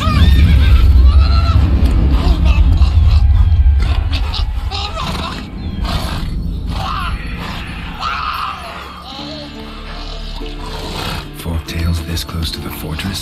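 A horse neighs and whinnies in The Witcher 3 video game, heard amid busy game audio with music, ambience and some talk across the stretch.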